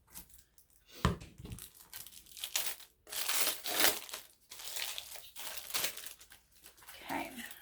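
Plastic packaging around Target Dollar Spot nameplates is cut and torn open, loud crinkling and ripping in uneven bursts close by, with no talk.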